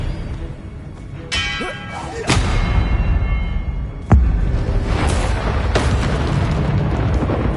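Magical Expelliarmus spell effects from the Hogwarts Legacy video game, heard as a few sharp booming bursts over a steady rumbling game backdrop, with one especially heavy thud partway through.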